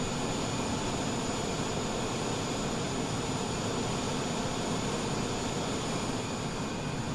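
Airliner jet engines idling while taxiing in Microsoft Flight Simulator: a steady, loud broadband roar with a constant high whine, unchanging throughout.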